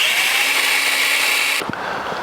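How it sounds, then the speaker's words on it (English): Power drill boring 7/16 inch holes through a steel hitch bracket for a Reese weight distribution sway cam lock, a loud steady whine for about a second and a half, then stopping abruptly. "they want us to use these holes as a pilot and to drill two 7/16 inch holes"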